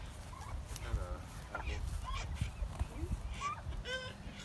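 Chickens cluck and squawk in short bursts while being fed, close by, with people talking around them.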